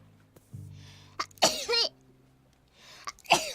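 A woman sneezes sharply once or twice amid short breathy vocal sounds and a low hum, the bursts brief and close.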